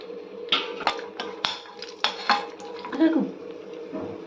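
A metal spoon clatters and scrapes against a kadai where cashews and almonds are frying in a little oil, with a string of sharp clinks close up and only a faint sizzle underneath.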